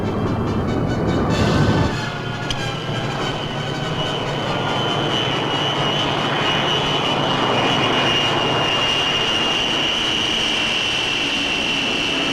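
Steady, loud roar of a 1950s aircraft engine during a landing in heavy fog, a constant broadband drone with a brief swell near the start and no speech.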